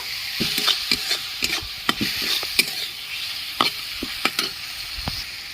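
Spices and tomato paste for stuffed potol with prawn filling sautéing in a pan, a steady close sizzle punctuated by frequent sharp scraping and tapping strokes of a spatula.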